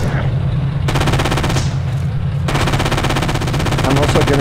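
Rapid gunfire in the World War II shooter game Forgotten Hope 2 on the Dukla Pass map, dense and continuous over a steady low rumble, with bursts that stop briefly and resume.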